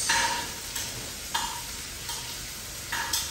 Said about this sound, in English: So you're going to fry this for a minute on each side.